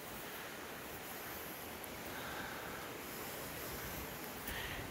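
A river flows steadily beside a trail campsite on the Border Route Trail, its rushing water forming a continuous broadband wash that stays even and unbroken throughout, with no voices.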